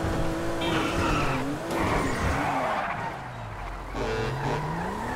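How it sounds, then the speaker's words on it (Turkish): A car in Grand Theft Auto V skids with a loud wavering tire screech over a roaring engine, easing off briefly before squealing again near the end. "Araba kaydı, yapacak bir şey yok."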